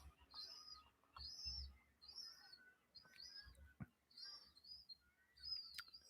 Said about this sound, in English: Please excuse the noise of the birds.